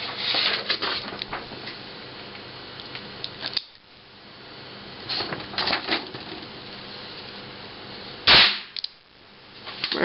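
Gunshot from a Röhm RG56 revolver: one sharp, loud crack near the 8.4 s mark, rising above a background of rustling handling noises.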